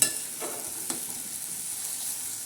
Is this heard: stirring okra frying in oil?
yes